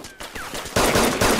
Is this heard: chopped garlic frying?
no